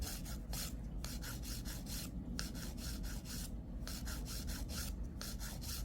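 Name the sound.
nail file shaping and thinning nail extension surface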